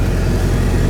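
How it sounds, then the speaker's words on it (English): A 1923 Ford Model T driving fast, its engine a loud, dense, steady rumble with rushing wind noise right up close, unbroken and without talk. "Look how fast they're going in a Model T."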